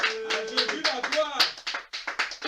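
A church congregation claps along during a worship service, quick sharp claps mixed with singing voices and talk, fairly close and busy.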